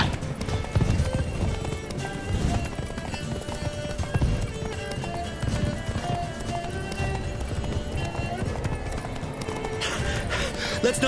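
Hooves of Roach, a horse in the video game The Witcher 3, clip-clop in a fast galloping rhythm at moderate volume over a continuous game soundscape, with an occasional whinny and no speech.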